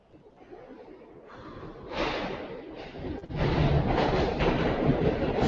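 New York subway F/M train at the 14th Street station's uptown level, a rising rumble and clatter of the train arriving that swells and holds loud and close, with no speech.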